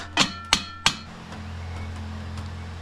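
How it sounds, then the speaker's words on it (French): Three sharp metallic hammer blows ring out in quick succession on a cut, widened and welded original Renault 4L steel wheel rim, followed by a quiet workshop hum. "quelques coups de marteau et on l'ajuste."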